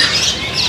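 White loper canaries chirp at a bird kiosk in Pramuka market, giving a short, close run of high, sweeping tweets with steady background hiss.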